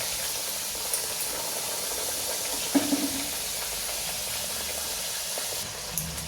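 Spinach puris frying in hot oil, giving a steady close hiss and crackle with a few soft pops and bubbles, heard alone with no talk.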